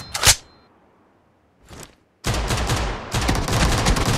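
Gunfire in the mobile battle-royale game PUBG Mobile: a sharp single shot, then a brief quieter burst, followed by a sustained loud stretch of rapid firing that continues to the end with no talk.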